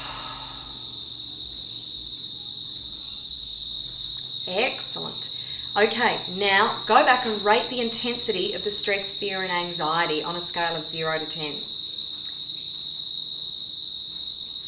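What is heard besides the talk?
Australian summer crickets and cicadas singing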